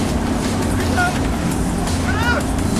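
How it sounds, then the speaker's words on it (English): A vehicle engine roars in the video game Borderlands, a loud, continuous low rumble that fills the scene, with brief chirps and voices over it. "I couldn't even hear what he said over the roar of the engine"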